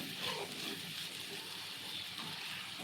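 Onion, green chilli and curry leaves sautéing in hot oil in a pan for crab curry, a soft, steady sizzle holding even and fairly faint throughout, with no voices.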